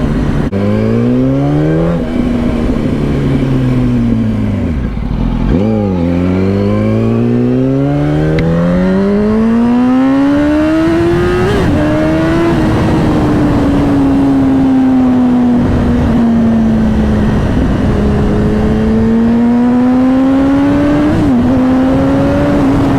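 A 2007 Yamaha R1 sports motorcycle pulls hard at speed, its engine note climbing and dropping through repeated gear changes, loud and close with steady wind roar underneath.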